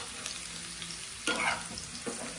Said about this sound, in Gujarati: નોનસ્ટિકમાં ફ્રાય કરવા ડાયરેક્ટ આ રીતે થોડું ઓછું તેલ લઈને